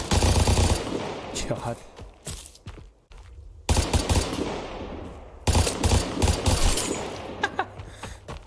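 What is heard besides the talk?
gun tap-firing in the video game Vigor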